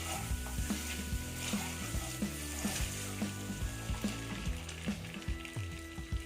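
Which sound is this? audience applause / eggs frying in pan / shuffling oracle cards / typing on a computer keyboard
eggs frying in pan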